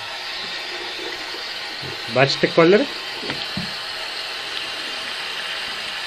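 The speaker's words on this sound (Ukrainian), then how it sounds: "зараз ми побачимо, що у Львові тече з крану, а не вода" A steady rush of liquid other than water running from a tap in Lviv fills the clip, with a person briefly speaking over it.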